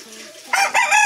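A hybrid rooster, the father bird of a brood, gives a brief, close crow that rises sharply and breaks off within a second.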